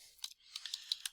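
Quick, light keystrokes on a computer keyboard typing the ipconfig command, a short burst of soft clicks in two clusters, close and quiet, with no talking.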